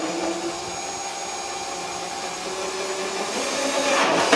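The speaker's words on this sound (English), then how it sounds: "holes are drilled out there." A rotary tool drills holes in a plastic Rubies Jason Voorhees hockey mask, making a steady, loud high-pitched whine that holds throughout and rises slightly at the end.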